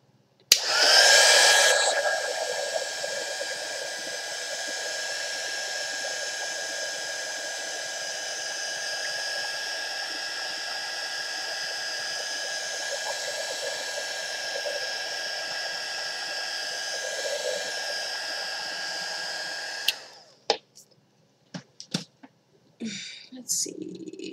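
A hair dryer blows steadily on a wet paper craft page, a loud continuous whoosh with a high whine that starts abruptly, runs for about twenty seconds, then cuts off, followed by a few faint handling taps.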